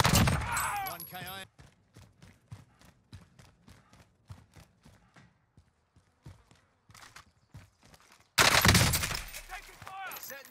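Rapid bursts of gunfire in a Call of Duty Warzone match, including an MP5 submachine gun, crack out as a series of sharp repeated shots between louder chaotic stretches of game noise at the start and end.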